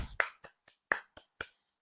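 Several quick sharp claps, about six in under two seconds, crisp and close in a quiet room during a guided session, uneven in strength.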